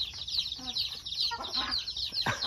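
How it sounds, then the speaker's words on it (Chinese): Chickens clucking and a rooster calling while being fed at a rural family home in Laos during Chinese New Year, several birds close by with short cackles and a rising squawk near the end. "奶奶啊妈妈他们在这里在喂鸡哦"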